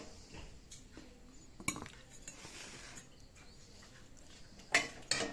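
Ghugni, curried peas, is served onto a plate at dinner with soft clinks of a spoon against crockery, a few sharper knocks and scrapes, and quiet pauses between them.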